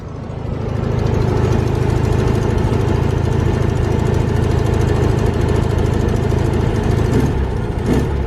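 A Volkswagen car's exhaust idles steadily close by at a VW show, a constant low rumbling drone with an even pulsing beat, no talking.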